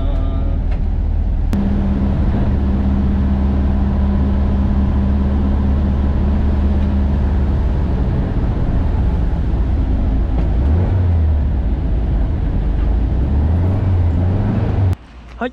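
A restored 1973 Volkswagen bus driving on a public road, its air-cooled engine droning steadily with a low hum and tire rumble, and the engine pitch rising and falling near the end.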